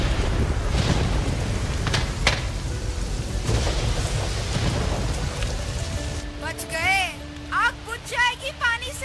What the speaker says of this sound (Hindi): पानी तो बरसना ही था। कल शाम से बादल गरज रहे थे।